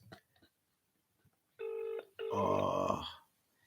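A phone call rings out unanswered: two electronic ringback tones, a short one followed by a longer, louder one, after a near-silent pause.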